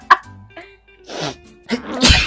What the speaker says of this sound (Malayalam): തുമ്മല് പിടിച്ചു വെച്ചാലേ ചത്തു